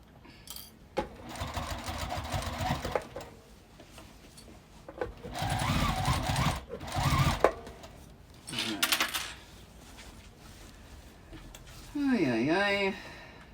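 A sewing machine slowly stitches through the thick foam layers of a quilted bag in several short, separated runs, with clicks and metallic clatter between them and a person talking nearby.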